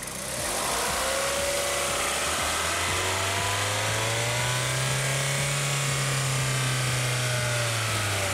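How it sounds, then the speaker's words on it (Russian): A Kia Ceed engine (2007-2012 model) runs at high RPM, loud and close, with a steady droning roar whose pitch rises slightly and falls back over several seconds. "Работа двигателя на высоких оборотах."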